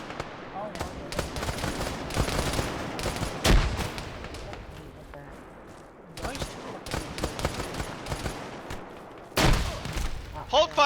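Gunfire in a video game shooter: rapid automatic bursts with louder booming shots standing out, the volleys broken by short lulls.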